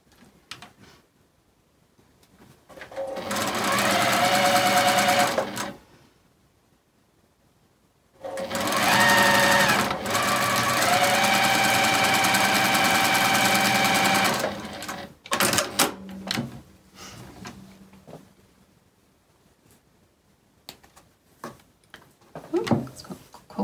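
A sewing machine stitches quilt pieces in two long, loud whirring runs separated by a pause, followed by handling clicks and taps, with brief talk in between.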